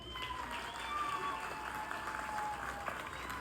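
Audience applause at a factory inauguration in Dimako, a steady wash of clapping from a crowd that holds fairly even for a few seconds, with faint voices mixed in.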